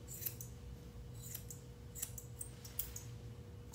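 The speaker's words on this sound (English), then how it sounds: "Use my curved scissors and angle it down and around" Curved scissors trim poodle fur in quick, faint snips, several light crisp clicks spaced irregularly over a quiet room hum.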